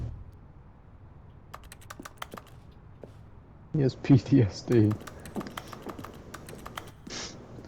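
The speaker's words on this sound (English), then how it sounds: "makes a typing sound" Keyboard typing in the video game The Stanley Parable: Ultra Deluxe, sparse clicks early on, then a louder cluster of keystrokes with a few later taps, while a voice speaks.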